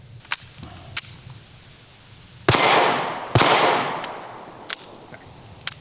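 Sharp gunshots from a SCCY pistol ring out at a range, two loud reports with long ringing decay a second apart, surrounded by several fainter distant shots from other shooters.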